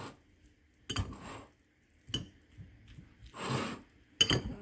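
Sautéed oyster mushrooms are stirred into noodles, with four separate bursts of utensil clatter and scraping against a dish between stretches of near silence.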